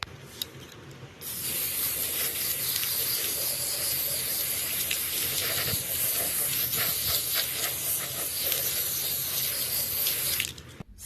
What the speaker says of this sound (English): Now we're going to spray paint these jars.